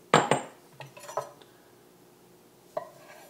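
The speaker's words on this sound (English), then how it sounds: "And cherry tomatoes, cut these in half." A knife cuts cherry tomatoes in half on a board, a couple of crisp taps at the start, then lighter knocks and one final tap, close and alone.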